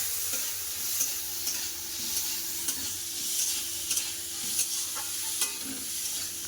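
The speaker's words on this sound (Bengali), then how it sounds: "পেঁয়াজের সাথে চিংড়ি মাছটা ভালো করে ভেজে নেব" Prawns frying with onions in a pan, a continuous sizzle broken by regular stirring scrapes and clinks of the spatula, close and moderately loud with no voices.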